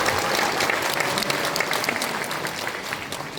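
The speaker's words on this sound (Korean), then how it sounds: "큰 박수로 부탁드리겠습니다." An audience at a Korean National Assembly member's book launch breaks into brisk, continuous applause, a full and even clatter of many hands heard close throughout, with no speech over it.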